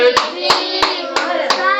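Rhythmic hand clapping at a child's first birthday celebration, five sharp claps spaced evenly over a steady sustained sung or hummed tone, close and fairly loud.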